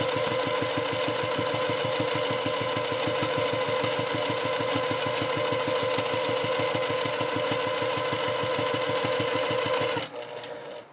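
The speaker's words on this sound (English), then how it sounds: "So we're really just sewing that down to keep it from going anywhere." A sewing machine stitches a handbag seam in a fast, even run of rapid needle strokes, close and steady for about ten seconds before stopping abruptly.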